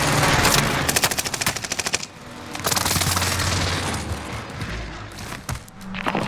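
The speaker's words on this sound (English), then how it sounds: "Precision airstrike near." Gunfire and explosions from a precision airstrike in the video game Warzone, with rapid machine-gun bursts, then a broad rumbling blast and continued loud, dense combat noise, close and intense.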